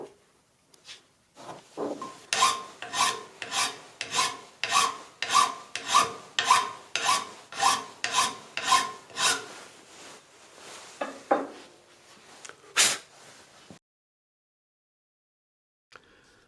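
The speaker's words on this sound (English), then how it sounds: "A file cleans up the ends and makes them just a little bit shorter." A hand file working the cut ends of shortened steel bolts, about a dozen rhythmic rasping strokes, close and fairly loud, followed by a few scattered scrapes and then silence.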